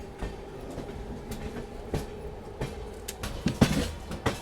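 A Duronto Express train rolls into Secunderabad railway station with irregular clacks of wheels over rail joints and a brief metallic squeal, steady and fairly close.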